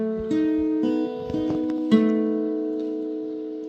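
Single guitar notes are plucked one after another, close and clean, building into a ringing three-note chord that sustains and slowly fades, with no talking.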